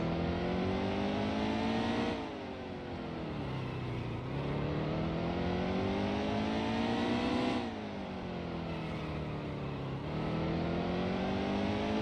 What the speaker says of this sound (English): Lots of tire squealing.